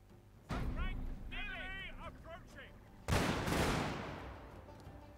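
An arquebusier volley in the Shogun 2 strategy game: a sudden loud crackling burst of massed matchlock fire that rolls on with a rough, noisy tail, following a stretch of talking over battle ambience.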